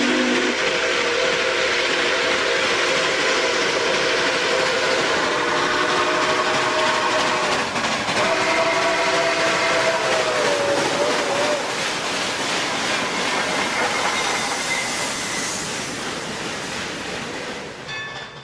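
Pere Marquette 1225, a Berkshire steam locomotive, hauls an excursion train alongside 765 between Huntington and St. Albans, West Virginia, a sustained loud rumble with a steady whistle tone rising over the chugging, fading slightly near the end.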